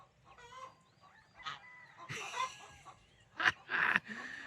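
A farm fowl makes a series of faint clucks and honking calls, with a few louder, harsher calls near the end against quiet background.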